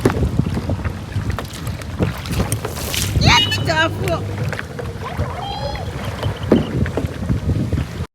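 Two people paddling a kayak on open water in gusty wind, with rushing wind noise over the microphone and intermittent water and paddle sounds; a voice speaks briefly midway and others chatter nearby.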